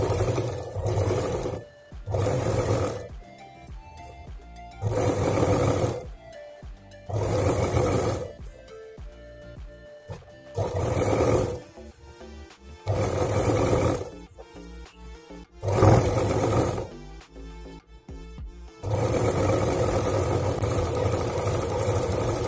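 A sewing machine stitches a lungi hem in repeated bursts of rapid whirring, each lasting one to three seconds, separated by short pauses, close and fairly loud throughout.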